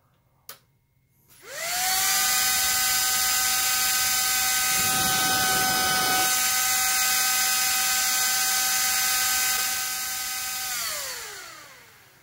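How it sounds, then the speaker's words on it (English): Small 40 mm DC server fan spinning up to about 15,000 RPM, a loud, piercing high whine with steady tones that holds for several seconds, then winds down near the end. "Incredible amount of noise comes out of such a small diameter fan"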